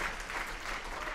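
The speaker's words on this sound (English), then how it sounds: "So applause for the tech people, please." A brief burst of audience applause, many hands clapping together, soft and somewhat distant.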